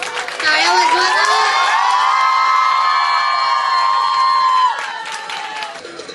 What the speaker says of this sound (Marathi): टाळ्या वाजवा ना.